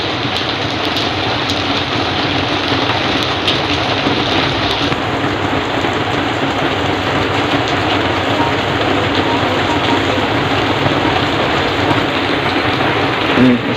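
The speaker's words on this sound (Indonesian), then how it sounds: "Hujan." Steady morning rain pouring down outdoors, a dense continuous hiss that stays loud and even throughout, with faint distant rumbles mixed in.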